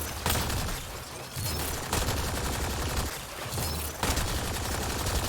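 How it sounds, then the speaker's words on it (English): An assault rifle fires in the sci-fi shooter Mass Effect: Andromeda, in loud rapid automatic bursts of about a second each, repeated several times with short pauses, close and dominant, with no talk. "New assault rifle that I picked up at some point. Just wanted to test it out."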